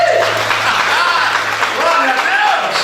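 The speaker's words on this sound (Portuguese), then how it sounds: "Dá uma salva de palmas." A congregation in a church service applauds continuously for a few seconds, a loud, dense wash of clapping over which a preacher's voice is also heard.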